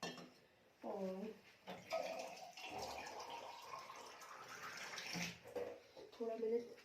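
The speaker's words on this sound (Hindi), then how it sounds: "मैंने गर्म पानी करके रख रखा है। तो थोड़ा मैं ये डालूँगी" Warm water is poured into a bottle in a home kitchen, a steady close splashing trickle with occasional clinks of dishes, while a voice briefly speaks at the start and end.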